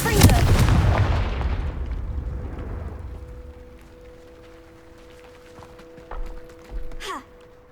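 A Confringo blasting spell cast in the Hogwarts Legacy video game erupts in a loud, close burst of explosive crackle that fades into a long rumbling tail, followed by a steady tone and a couple of smaller thuds.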